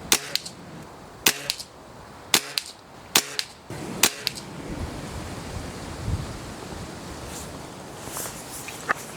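Weihrauch HW97 air rifle fired at a target outdoors, five sharp spring-piston shots in a steady rhythm over the first four seconds, followed by wind and surf-like outdoor noise.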